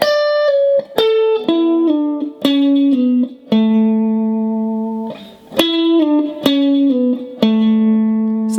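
Electric guitar playing the first phrase of a solo, with sustained bent and sliding notes down the neck, clean picked attacks ringing into long held tones, loud and close with no talking.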